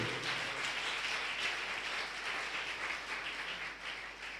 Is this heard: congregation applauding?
yes